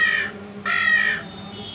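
A human voice imitates a crow cawing, giving two harsh, nasal caws in quick succession, close and fairly loud, with no other sound around them.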